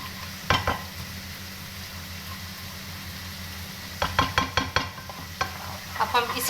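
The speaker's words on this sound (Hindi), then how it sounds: "इसको हम अब रंबल चंबल की तरह मिक्स करके ये अंडा बनाएंगे।" Egg being stirred and scrambled in a frying pan for chicken fried rice, a steady soft sizzle broken by sharp spatula scrapes and taps, one early and then a quick rhythmic cluster near the end.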